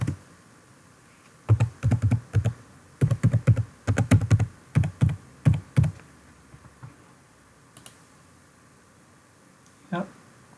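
Typing a password on a computer keyboard, a rapid run of close, crisp key taps in irregular bursts for several seconds, then a pause and one last tap.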